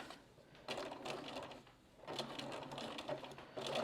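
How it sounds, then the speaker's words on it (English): A sewing machine stitches a quilt seam over earlier stitching, its motor whirring in two steady bursts separated by brief pauses, close and fairly loud. "You're going to sew right on top of your other stitches."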